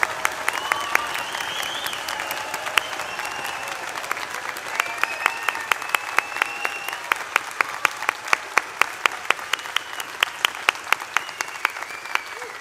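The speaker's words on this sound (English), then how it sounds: "So let's give a massive round of applause, shout and cheer, stamp your feet for our class of 2024." Audience at an Ulster University graduation ceremony in Derry breaks into loud, sustained clapping, with whoops and whistled cheers rising over the applause.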